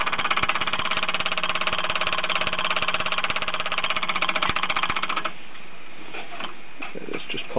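A 1946 Mamod SE1 toy steam engine runs with a light disc crank and pulley. It gives a fast, even ticking and chuffing close by for about five seconds, then stops, and a few scattered clicks follow.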